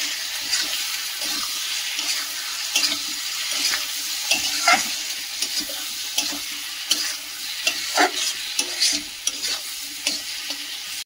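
Ghugni masala with Kashmiri chilli powder and chopped tomato sizzles in a pan, a steady frying hiss broken by repeated scraping stirs and clinks.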